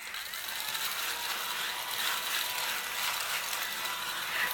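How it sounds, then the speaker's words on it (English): Small cordless handheld vacuum running steadily up close while cleaning excess embossing powder off a handmade greeting card, a continuous whirring, buzzy hum at even loudness throughout with no talking. "And I'm going to use my vacuum to clean it up."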